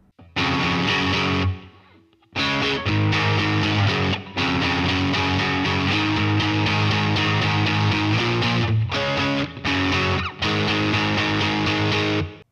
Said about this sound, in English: I'm gonna dial in something kind of like a TS 808 distortion pedal